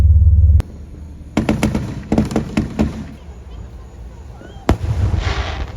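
Fourth of July fireworks heard from a car stuck in stopped traffic, with distant bursts and crackling pops spread over several seconds, a sharp bang near the end, and a steady low engine hum underneath.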